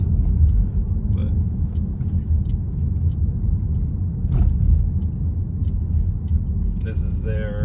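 A car drives beneath the old defensive city wall in Cádiz, giving a steady low rumbling road and engine noise throughout, with faint talk and small knocks above it.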